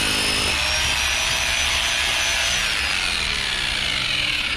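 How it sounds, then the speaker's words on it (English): A power drill with a 14mm bit bores into concrete with a loud, continuous whining grind held steadily close up, with no talk. "the 14mm drill bit we use on this, again, can be bought from Screwfix or any builders merchants"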